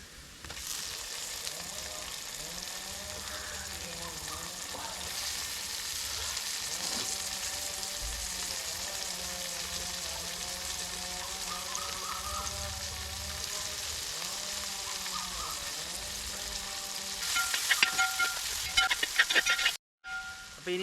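Onions, green chillies and tomatoes fry together in a pan for chicken curry, giving a steady, close sizzle that runs throughout and swells into a louder crackling burst near the end.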